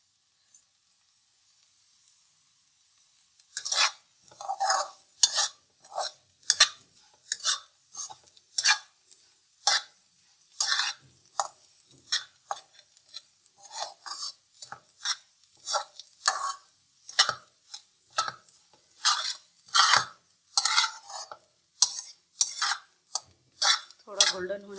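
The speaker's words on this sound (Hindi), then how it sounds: "ये देखें, बादाम थोड़े थोड़े भून रहे हैं।" Almonds roasting in a pan as badam halwa is made, stirred with a utensil that scrapes and clinks against the metal repeatedly in a steady rhythm, with light sizzling close by and no one talking.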